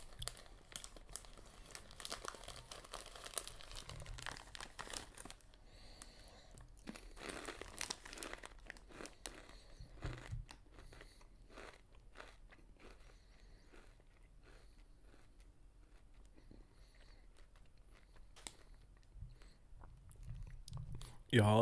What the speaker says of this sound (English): if the crunching of my chips is too loud